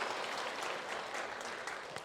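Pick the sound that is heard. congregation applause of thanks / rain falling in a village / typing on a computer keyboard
congregation applause of thanks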